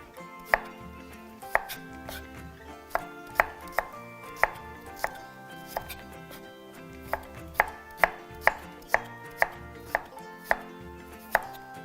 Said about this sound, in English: So now just cut our little slices here